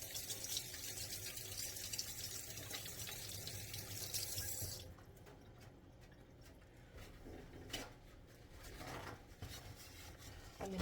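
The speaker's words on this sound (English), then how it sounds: "let me rinse off my fingers here real quick" Water runs from a kitchen tap as fingers are rinsed under it, a steady close splash that softens midway into quieter trickling and rubbing, with no talking.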